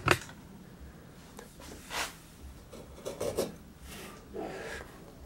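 A freshly sharpened chisel pares into a block of alder wood in a few short scraping, rasping strokes, separated by quiet pauses, close and fairly faint.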